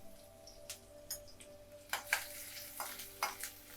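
Chopped garlic and ginger sizzle in hot oil for an egg Manchurian, a faint steady fry under a low hum with scattered clinks and stirring scrapes from a spoon in the pan.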